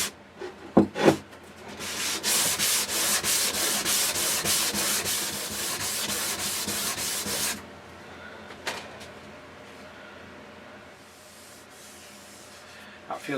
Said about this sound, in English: Yeah, 320, and we're just going to hand sand it with that.